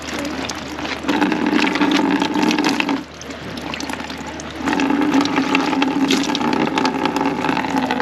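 Water runs steadily from a temporary tap and hose at a holy site being excavated on the Karpaz Peninsula, Cyprus, a continuous close splashing flow that briefly drops away around the three-second mark before resuming.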